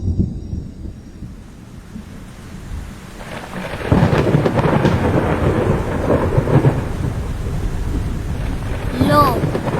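Cartoon thunderstorm with rumbling thunder and steady heavy rain, quieter at first and then swelling into a loud, continuous downpour with booming thunder, with a faint voice near the end.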